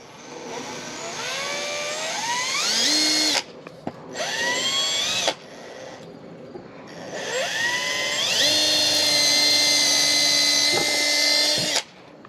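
A Metabo HPT 18V cordless right angle drill whirs up to speed, winds down, then spins up again several times under variable trigger control, its motor whine rising and falling loud and close.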